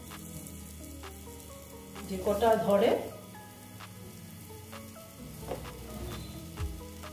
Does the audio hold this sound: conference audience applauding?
no